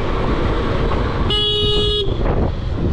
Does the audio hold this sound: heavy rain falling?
no